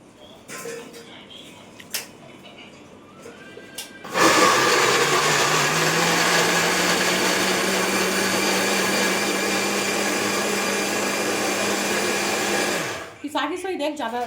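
A cheap mixer grinder, missing its rubber seal, whirs loudly for several seconds at a steady pitch, then stops; quiet clicks and handling noises come before and after.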